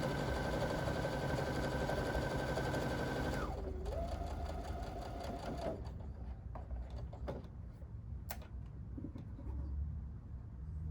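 Sewing machine stitching a quilt sampler piece, a close steady mechanical whir running for several seconds, then slowing and shifting pitch before stopping, followed by quieter clicks and handling.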